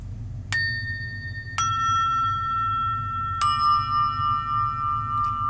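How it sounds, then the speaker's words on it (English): Three separate bell strikes ring out one after another, each leaving a long, clear sustained tone that slowly fades, over a faint low background hum. "So a lot of times I just like to start with bells."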